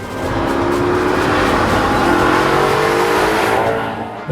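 A Maserati GranTurismo MC Stradale's 4.7-litre V8 engine roars steadily at high revs for several seconds, loud and close, with a rising and falling tone and no talking.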